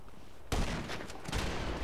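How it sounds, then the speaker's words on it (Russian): Gunshots in GTA Online, a sudden loud burst of gunfire followed by rapid repeated shots and a second volley, fairly close, with no talk over it. "снова выстрел"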